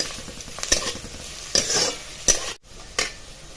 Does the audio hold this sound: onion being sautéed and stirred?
yes